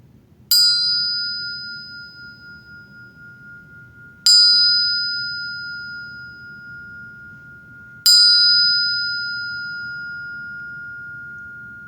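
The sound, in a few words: triple bell being sounded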